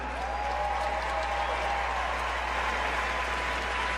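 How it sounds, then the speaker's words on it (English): Dense, continuous crowd applause at the 2018 West Regional competition, honoring the individual women's results. It is loud and sustained throughout, with cheering voices mixed into the clapping. "Let's give them a big round of applause one more time."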